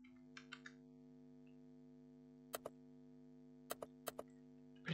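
Sparse keystrokes on a computer keyboard while typing text in Photoshop, a few quick taps then pauses, then two pairs of sharper clicks, close and crisp over a constant low electrical hum, with no voices.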